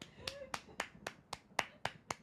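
Nine sharp hand claps in a steady, slightly quick rhythm, each a crisp broadband burst, moderately close with faint background between them.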